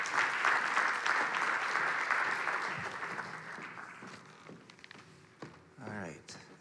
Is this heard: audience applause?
yes